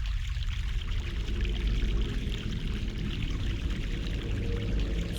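Mountain stream water in the 1999 adventure game The Longest Journey, a continuous dense rushing flow, close and steady throughout with no voices.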